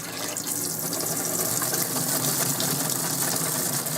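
Hot water tap running into the sink of a 2003 Abbey Inspiration 520L four-berth caravan, a steady close hiss of flowing water at an even, fairly loud level with no talk.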